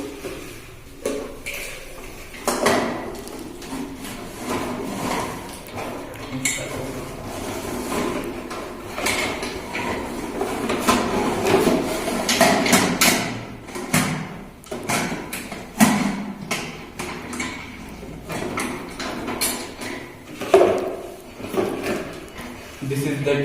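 Plastic waste pieces are loaded by hand into a cooker used for making fuel: repeated clattering knocks and thuds of light plastic dropped and shifted, irregular and close, with a voice talking in the background.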